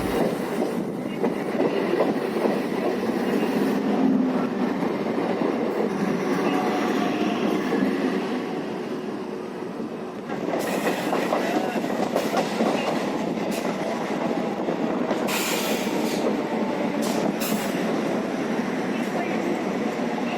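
An EMU local electric train from Ennore to Tiruvallur rolls steadily along the rails with rhythmic clickety-clack and a constant rumbling hum, heard from inside the carriage, with faint voices in the background.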